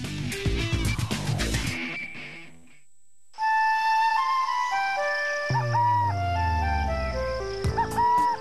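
Burrowing owl, a small prairie bird, gives clear whistled calls and hoots, fairly loud and alone, with a pause partway before repeated tonal notes resume.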